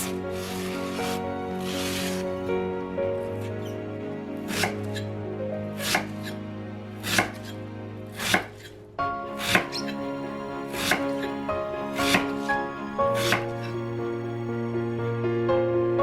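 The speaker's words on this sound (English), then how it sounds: "Cut the elephant ear stems, pineapple, okra, and tomatoes into bite-sized pieces." A knife chops elephant ear stems, pineapple, okra and tomatoes on a cutting board in sharp, irregular thwacks, some in quick pairs, over a faint steady background hum.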